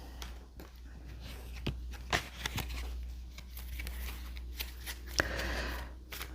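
Playing cards are shuffled quietly up close, with soft papery riffles and a few sharper snaps against a low background hum.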